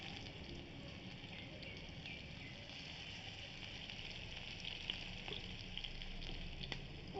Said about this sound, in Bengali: এই যে আলু টুকরো টুকরো করে ভেজে রাখছি নুন হলদি দিয়ে